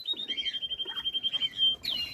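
Mixed songbirds chirp in a backyard walk-in aviary, a steady run of quick, repeated high tweets and short trills that rise and break off near the end, fairly close and continuous.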